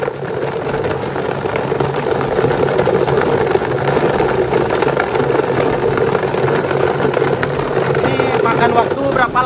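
An automatic garlic peeler machine running after being closed and switched on, giving a steady, continuous motor drone throughout while a person talks over it.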